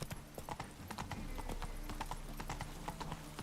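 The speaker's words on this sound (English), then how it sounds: "Whoa there, Roach." Horse hooves clip-clopping in the video game The Witcher 3: Wild Hunt, a quick, steady rhythm of hollow knocks heard close, over a low ambient game backdrop.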